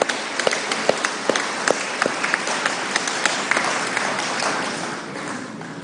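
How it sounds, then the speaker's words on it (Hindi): A large crowd at a Garib Kalyan Sammelan political rally applauds to welcome Prime Minister Narendra Modi. The steady, fairly distant wash of clapping is punctuated by sharp individual claps standing out nearer. "दोनों हाथ ऊपर उठा के ताली बजा के अभिनंदन करेंगे"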